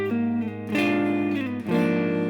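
The second half of a riff on guitar: a finger-picked first chord followed by two strummed chords, ringing clearly and close with no voice over it.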